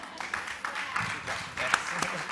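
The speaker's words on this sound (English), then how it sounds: "You keep up the applause" Audience clapping after a filmmaker panel discussion, a steady patter of many hands at moderate level with voices talking over it.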